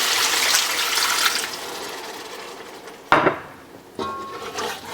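Water gushes into a pot of vegetables for a curry chicken dish, a loud rushing pour that fades, then sharp clatters of the pot and a second burst of pouring, close by.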